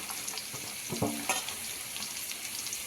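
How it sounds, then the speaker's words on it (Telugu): Ivy gourd (dondakaya) frying in a pan with salt, a steady soft sizzle throughout with a couple of brief stirring scrapes near the middle, no voices. "దొండకాయ వేసేసుకున్నాక మీకు ఒక 1/2 స్పూన్ సాల్ట్ వేసేసుకొని ఫ్రై చేసుకోవాలండి"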